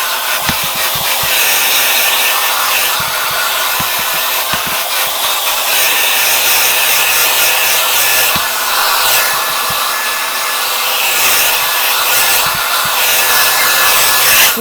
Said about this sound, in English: I get the blow dryer again and just kind of work it around in circles.